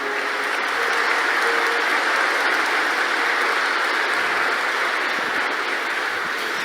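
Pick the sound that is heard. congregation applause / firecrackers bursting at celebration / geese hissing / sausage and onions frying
congregation applause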